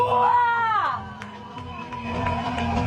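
Wedding guests cheer, shout and applaud a newly married couple at a lavish Sicilian celebration. A loud voice rises over the start, then lively crowd noise and babble continue throughout.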